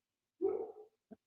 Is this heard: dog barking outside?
yes